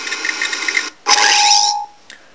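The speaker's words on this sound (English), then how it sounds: "Again, a different ignition sound," Torrent lightsaber toy plays its Vader ignition effect: a humming buzz cuts off, then a sharp loud ignition surge settles into a bright sustained hum before stopping, with a brief click afterward.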